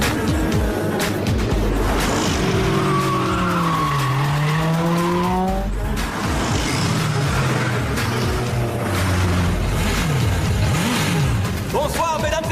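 Cars in the racing video game Street Racer roar with loud revving exhaust and repeated tire squeals and skids, a continuous dense mix of engine sweeps throughout.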